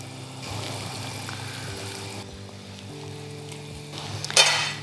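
Lamb pieces fry in a pot of yogurt sauce with caramelized onion, giving a steady, moderate sizzle and a brief louder burst of spattering near the end.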